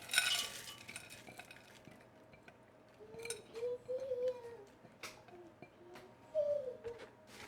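A spoon stirs a pound of frozen corn, carrot and pea mix into a meat mixture for shepherd's pie, with soft scraping, clinking strokes in a pot, close and fairly quiet, in uneven bursts.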